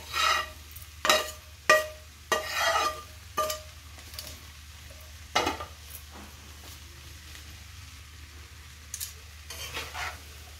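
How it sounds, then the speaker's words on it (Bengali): Fried rice with fried egg and paneer is stir-fried in a pan, giving a series of sharp scraping and clattering stirs over a soft background sizzle, close and moderately loud, with quieter gaps between strokes. "এবার আমি ভেজে রাখা ডিম আর পনিরটা দিয়ে দিচ্ছি।"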